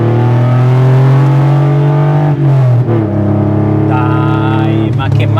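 An old air-cooled Porsche built by RWB drives along a scenic road, its engine droning loud and steady and rising in pitch as it revs, with a shift partway through and the note climbing again.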